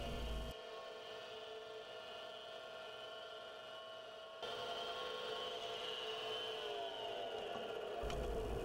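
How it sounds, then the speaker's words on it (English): Steady machine hum and whine of a mini lathe peck drilling a steel part, running continuously, with a high tonal drone and a brief shift in pitch partway through. "we're just going to peck drill this steel part here"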